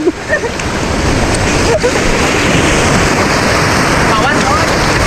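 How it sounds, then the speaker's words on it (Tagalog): Broad, continuous wash of ocean waves at a night light-fishing spot off Palawan, loud and close with steady surf roar and occasional splashes, no clear talk over it. "ang lalaki lang ng alon"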